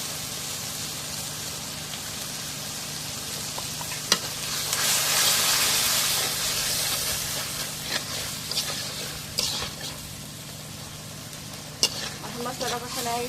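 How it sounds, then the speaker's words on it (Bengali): A spice mixture with salt sizzles steadily as it is stirred and fried in a pan, with a spoon scraping and tapping now and then over a continuous, close frying hiss. "মশলা একটু নাড়িয়ে দিই।"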